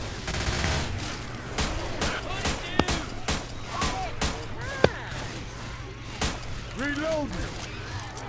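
Rapid gunfire from the Left 4 Dead 2 video game pops in a fast, uneven stream of sharp shots, with a couple of louder cracks standing out, while game voices and a player's speech run alongside.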